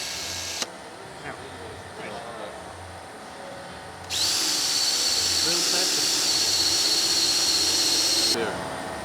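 A power drill whirs steadily for several seconds at close range, drilling a hole in a Nissan March (Calsonic) car, starting abruptly and stopping, with quieter handling noises before it.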